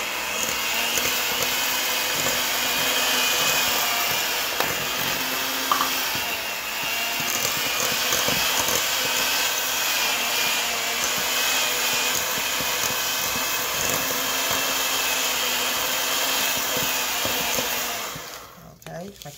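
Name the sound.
mixing oats into oatmeal chocolate chip cookie dough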